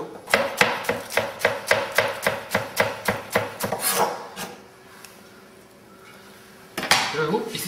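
A knife chops green onions on a cutting board in a run of quick, even, close knocks, then pauses briefly before a couple more cuts, with no talk heard.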